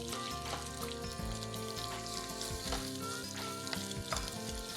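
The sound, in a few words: slit onions frying for village fish curry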